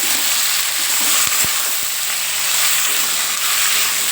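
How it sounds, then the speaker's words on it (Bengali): Potato and radish pieces frying in oil after a nigella and green chilli tempering, a loud, close, continuous sizzle with a few sharp stirring knocks, no talk. "এবার সবজিগুলো দিয়ে হালকা ভেজে নেব"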